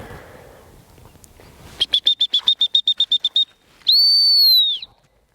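A rapid string of about fifteen short, sharp dog training whistle pips for a retriever, then a single long shrill blast, loud and close.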